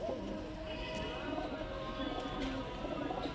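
Old-line breed pigeons, males and females kept for sale, cooing softly in low, rolling murmurs over a steady background hum and faint activity nearby.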